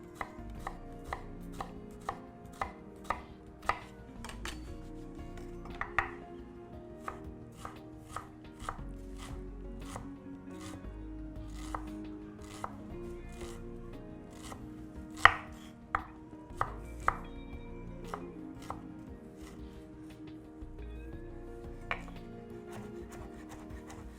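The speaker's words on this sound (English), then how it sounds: "I'm just going to cut my onion." Knife chopping an onion finely on a cutting board, a long run of crisp, fairly regular taps with a few louder strikes, close and clear with no talk.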